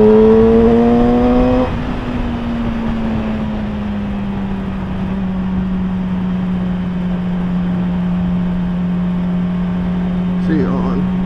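Motorcycle engine droning steadily while riding, a sustained low hum after a brief higher revving start, with wind noise throughout.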